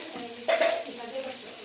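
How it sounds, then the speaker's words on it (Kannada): Onions fry in oil in a pan for cauliflower gobi manchurian, a close, soft sizzle with a brief burst of stirring. "ಈರುಳ್ಳಿ ಚೆನ್ನಾಗೆ ಒಂದು ಸ್ವಲ್ಪ ಬಣ್ಣ ಚೇಂಜ್ ಆಗೋ ತನಕ ಎಣ್ಣೆನ ಫ್ರೈ ಮಾಡ್ತೀವಿ"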